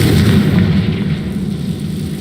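A Confringo spell blast in Hogwarts Legacy, a loud, sustained rumbling explosion with a heavy low roar that fades slightly over two seconds.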